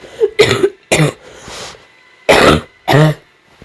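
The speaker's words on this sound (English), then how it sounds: "I need to clear my throat" Loud, close bursts of throat clearing and coughing, about five harsh rasps in uneven rhythm with short pauses between them.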